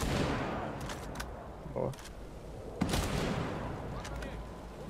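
Sniper rifle gunfire in the video game Ghost Recon Breakpoint: a few sharp shots ring out over constant in-game ambience, with a player talking briefly.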